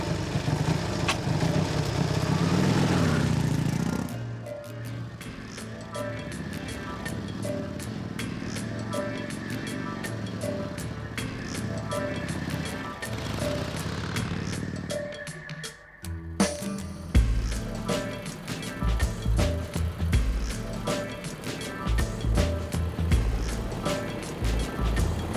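An old Indian motorcycle starts and rides off with a steady, rough engine rumble that runs the whole time, thinning briefly near the middle before picking back up close and loud.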